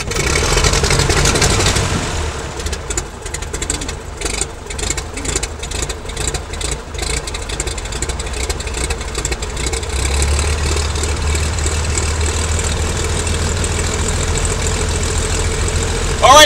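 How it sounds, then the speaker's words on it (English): A light aircraft's propeller engine cranks and catches, then settles into a loud, steady idle with a low rumble and rhythmic pulsing for the rest of the stretch. "So, let's start at the engine and see how it goes."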